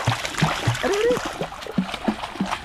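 A child swimming in water, with steady splashing and sloshing close by and a few small rhythmic slaps, under a voice speaking.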